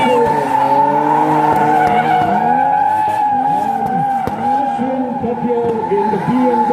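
A BMW drift car skids at the Laitkor festival in Shillong, with long, loud tire squeal that wavers in pitch, a revving engine close by, and crowd noise around it.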